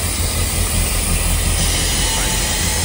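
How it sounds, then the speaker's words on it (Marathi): Matheran toy train running, a loud continuous rumble and hiss of the rail cars heard up close from on board, steady without pause. "ट्रेन बघ"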